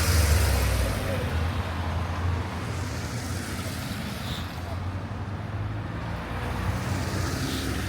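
Road traffic rolling past on a rainy morning in the Puy-de-Dôme, a steady broadband rumble of passing cars and wet road noise that stays fairly constant throughout, with no talk over it.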